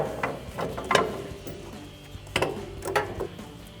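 A ratchet wrench removes a nut from the top of a front strut during a suspension leveling kit install, giving a few short, close metallic clicks and ratcheting bursts with pauses between.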